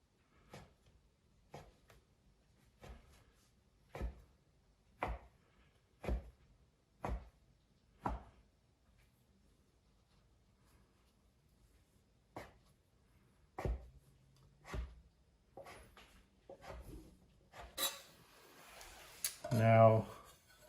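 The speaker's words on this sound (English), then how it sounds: "I'm going to come through with a nice sharp knife and make my cuts" A sharp knife chops down through rolled fresh pasta dough on a board, about a dozen crisp, evenly spaced cuts that pause midway and resume, followed by some handling noise near the end.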